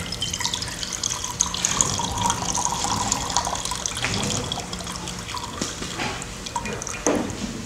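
Liquid splashes and trickles unevenly as it is poured through cheesecloth into a container during an absorbent demonstration, with intermittent drips and a burst near the end.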